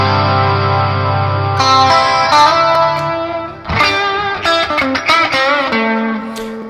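An electric guitar blending a distorted tone with a clean signal rings out sustained chords and then a run of plucked notes, loud and bright with a smooth effected sheen.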